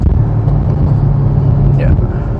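A 5th-generation Chevrolet Camaro SS engine gives a deep, steady rumble from inside the car as the throttle is eased on, loud and close, with a low drone holding throughout.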